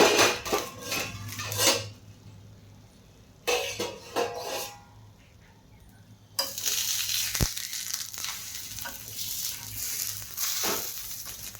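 While dosa for a fasting day cooks on a pan, a metal lid clanks and scrapes in bursts, with a sharp clink partway through, between quiet gaps and a hissing, clattering stretch toward the end.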